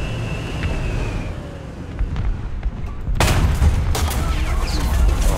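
Gunfire rattles through a War Thunder ground battle in realistic mode, steady shots and booms close by, growing louder and denser in the final seconds.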